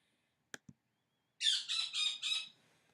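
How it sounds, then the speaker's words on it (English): A pet bird indoors gives a couple of faint clicks, then four quick, loud, harsh squawks in a row, close by and with no talk over them. "I apologize for the noise in the background. It's my bird."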